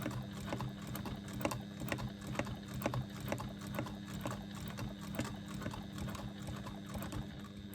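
A sewing machine free-motion quilting fabric hums in a steady rapid needle rhythm that continues without pause. It is close but fairly quiet, with no talking.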